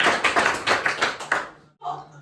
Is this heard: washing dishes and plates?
no